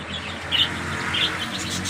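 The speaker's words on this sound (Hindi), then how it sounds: "इस पिंजरे में देखिए काफ़ी ऑस्ट्रेलियन तोते हैं" Australian budgies in a small cage at the PCSIR Society give a few brief, high chirps over a steady low background hum, fairly faint and sparse.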